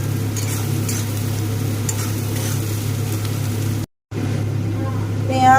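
Onions frying in a pan for a baby corn dry chilli dish, a steady close sizzle running throughout with a brief dropout near the end, under a low constant hum.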